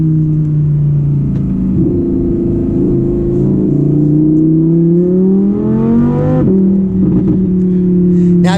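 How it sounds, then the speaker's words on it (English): A 2018 Audi R8 RWS V10 engine droning loud and close under acceleration, pitch climbing steadily, then a sharp exhaust crackle as the revs drop at a shift before the engine pulls on again. "A lot of backfiring from that exhaust."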